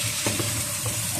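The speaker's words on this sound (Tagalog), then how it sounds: "kumukulo na ng mabuti ang ating munggo" A pot of mung bean stew with chicken boils on the stove, giving a soft, continuous bubbling sizzle with faint pops, quiet and close, with no talking.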